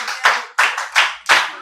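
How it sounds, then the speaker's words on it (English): School pupils clap for themselves in a classroom, making several quick bursts of close, bright handclaps in an uneven rhythm. The burst is short, with no talking. "Clap for yourselves."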